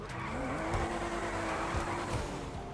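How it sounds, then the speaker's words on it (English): Car engine revving hard while drifting around corners in GTA Online, with tire squeal and skidding layered over a steady, loud engine drone throughout. "I've just been going around a few corners, and as you can see, double clutching this car, you can't even get the wheels to spin"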